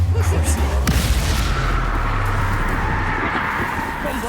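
A Confringo fire-blast spell from Hogwarts Legacy booms through a dense, continuous roar of battle noise, with low rumbling and crackling that persists without clear pauses.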